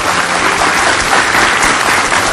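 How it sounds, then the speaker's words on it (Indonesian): On the Hitam Putih television set, a studio audience claps loudly and steadily for a Surabaya bubble artist and his partner, a dense, near wall of applause running without a break. "Kita kasih tepuk tangan dulu buat mereka berdua."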